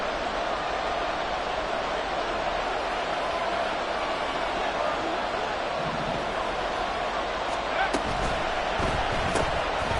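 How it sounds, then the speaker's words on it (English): Buffalo home crowd in a stadium booing at an NFL football game, a dense sustained roar filling the whole stretch, with a commentator's voice faintly beneath. "This Buffalo crowd letting them have it."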